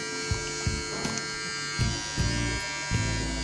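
A Powertec TR-1058 electric beard trimmer hums steadily up close with a high whine, punctuated by a few soft clicks and taps as it is handled.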